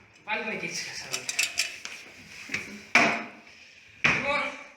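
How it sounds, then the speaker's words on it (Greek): Metal pots clank and knock while friends cook at home in a kitchen, with two sharp, loud clangs standing out near the end and people talking throughout. "Βάλουμε και τις κατσαρόλες."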